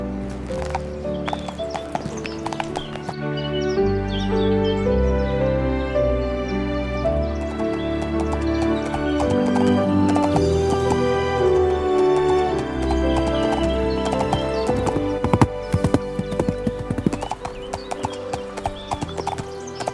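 Horse hooves clip-clop in a steady rhythm alongside music, with a horse neighing at points.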